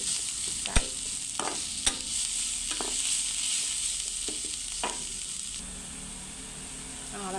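Chili paste stir-frying in a pan for northern Thai kua gai: a steady, close sizzle with periodic scraping stirs throughout, and no one speaking.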